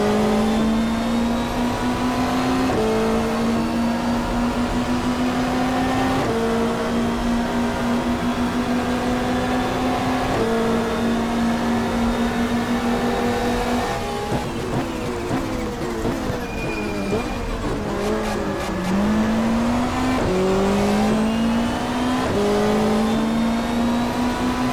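A Super Touring race car on the Mallala circuit in the 1995 Australian championship accelerates hard through the gears, its engine note climbing repeatedly with sharp drops at each upshift, loud and continuous without speech.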